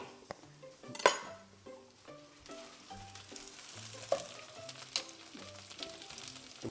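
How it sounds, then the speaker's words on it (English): Pear cheeks and vegetables cooking in a hot pan, with a steady low sizzle broken by scattered clinks and scrapes of a utensil against the pan, close up and with no voices. "get it in the pan with the vegetables so we slowly caramelize it"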